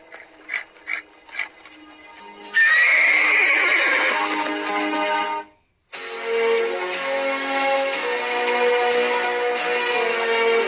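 A horse whinnies loudly with a rising, shaky neigh, then a brief gap before more loud animal and mechanical rattling noise continues.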